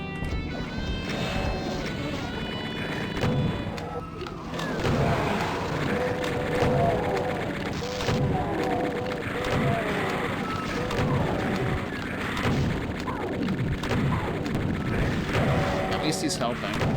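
Chaingunner enemies in Doom fire dense, continuous rapid gunfire alongside explosions and impacts, loud and unbroken, while a player talks over the action.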